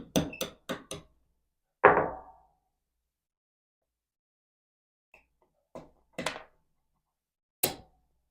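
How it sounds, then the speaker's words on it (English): Sharp metallic taps close by as a punch drives out the hammer pin of an AR pistol-caliber carbine: a quick cluster of four, a heavier single knock, then a pause before a few more scattered taps. "Take a punch and remove the hammer pin first."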